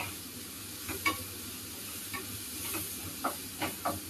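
Onions sauté in a pan until reddish for dal khichdi: a soft, steady sizzle close by, broken by a few sharp scrapes of a spoon stirring. No one speaks.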